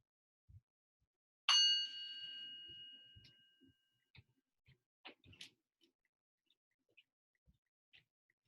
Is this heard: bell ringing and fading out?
yes